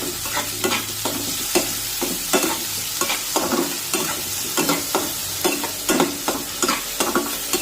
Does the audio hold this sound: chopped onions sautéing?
yes